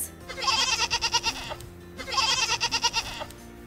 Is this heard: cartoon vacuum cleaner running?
no